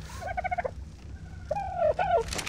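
Birds in the video game ARK: Survival Evolved give two bursts of gobbling, warbling calls, each a rapid run of turkey-like notes, heard close over a low game background hum.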